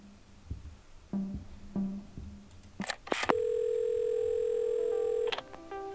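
A telephone in the video game Assemble With Care: a few handset clicks and rattles as the receiver is lifted, then a steady, loud dial tone holds for about two seconds before cutting off.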